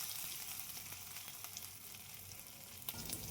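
Finely chopped garlic sizzles steadily in a hot pan, a continuous bright crackle with faint scrapes of stirring over it, close by with no talk.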